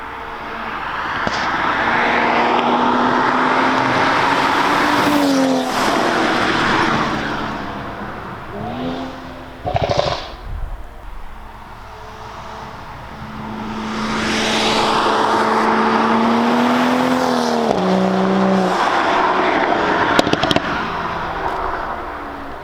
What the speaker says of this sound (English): as soon as you hear that car, it is so freaking loud